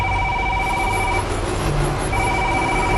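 A telephone rings in two trilling bursts separated by a short gap, loud and steady over a constant background hum, with no talking.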